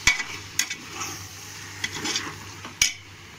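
A spoon scrapes and turns a tomato, soya and vegetable pulao mixture in a pan, with sharp clinks against the metal at the start and end and soft shuffling stirs between.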